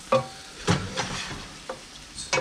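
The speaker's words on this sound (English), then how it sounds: "We're just going to saute these for a little bit until they're translucent." Onions sautéing for risotto in a metal pan, stirred with a wooden spoon: a few scraping, sizzling strokes spaced about half a second apart, close and fairly loud, with no talking.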